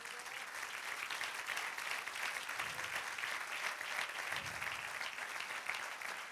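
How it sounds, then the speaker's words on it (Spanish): A church congregation at a Spanish-language service applauds steadily, a faint, continuous spread of many hands clapping heard from a distance without pause. "Dale otro aplauso al Señor."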